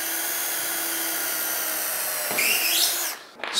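A power drill bores a hole through a UJK Parf Guide System jig, a steady close whine that shifts in pitch partway through, then breaks off and briefly restarts.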